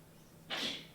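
A single close, sharp sneeze bursting out of near silence and trailing off quickly.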